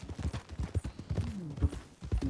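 Horse hooves clopping in the Western video game Red Dead Redemption (RedM roleplay) in a snowy setting, a steady rhythmic gait of dull thuds close by, with a faint tonal game sound behind.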